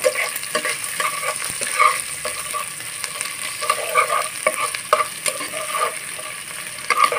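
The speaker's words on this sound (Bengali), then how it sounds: "আদা রসুন পেস্ট আর পেঁয়াজ কুচি। দিয়ে নেড়ে চেড়ে ভালোভাবে মিশিয়ে নেব।" Ginger-garlic paste and chopped onion stirred in a hot pan for potato muri ghonto, a continuous sizzle broken by repeated scraping and clinking strokes of a spatula, close and steady with no talk.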